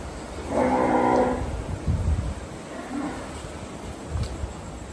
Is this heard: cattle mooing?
yes